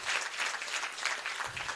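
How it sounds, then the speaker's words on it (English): Audience applause at a graduation ceremony, a steady patter of many hands clapping at moderate distance, fairly faint and brief, with no voices over it. "Can we clap their hands for that?"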